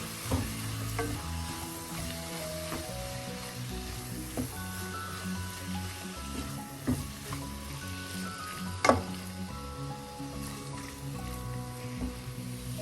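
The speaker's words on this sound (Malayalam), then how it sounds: "മസാല എല്ലാം ഒരുവിധം മൂത്തിട്ടുണ്ട് ഈ സമയം നമുക്ക് തക്കാളി ചേർക്കാം അത് ഇതിലൂടെ കൂടെ ഒന്ന് മിക്സ് ചെയ്യാം" Tomatoes are stirred into sizzling masala in a pan for Kerala Malabar-style chicken curry, with a steady close frying hiss, intermittent spoon scrapes, and one sharper clack near the end.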